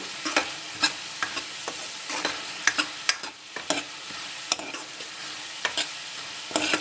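A vegetable curry with turmeric powder, dried coriander and garam masala sizzles in oil in a pan. A spoon scrapes and stirs in repeated irregular strokes over a steady frying hiss, with no talking.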